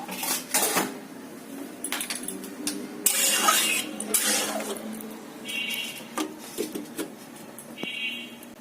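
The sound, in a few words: lid placed on a pot of tilapia fish curry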